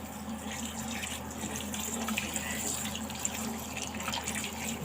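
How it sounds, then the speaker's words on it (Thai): Tap water runs in a steady, close stream over pickled greens being rinsed of salt in a sink, with a continuous splashing hiss. "เปิดน้ำให้ไหลผ่าน"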